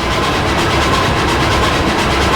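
Train in Roblox running through a tunnel, making a loud, constant reverberant roar with a rumbling low end and faint rhythmic clatter that fills the whole stretch without voices.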